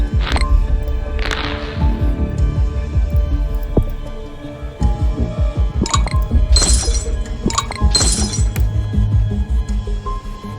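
Sharp clicking pops from bubbles being burst in Plague Inc: Evolved, a quick string of crisp glassy clinks over a rhythmic low pulsing backdrop, with no talk.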